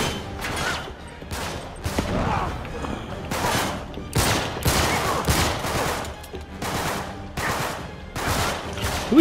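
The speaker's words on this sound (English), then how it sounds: "Who is shooting me in the back?" Rapid gunfire bursts crackle in the video game Uncharted 3, a shootout aboard a ship, with repeated loud volleys and short gaps between them, packed and close throughout.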